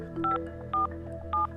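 Phone keypad tones entering a PIN code: three short, evenly spaced dual-tone beeps, loud and clean against a faint steady hum.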